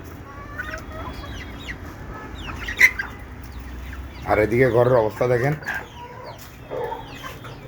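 Backyard chickens cluck in a short series of calls close by in a rooftop coop, with someone talking over a low background hum.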